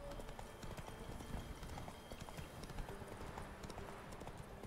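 Hooves of Roach, the horse in The Witcher 3, keep up a continuous rhythmic clip-clop nearby at a moderate level with no speech.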